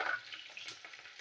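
Fresh green chilies and large garlic cloves sizzle in hot oil in a pan, a steady close hiss with faint stirring scrapes, no voices.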